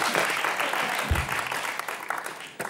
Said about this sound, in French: Applaudissements pour Thierry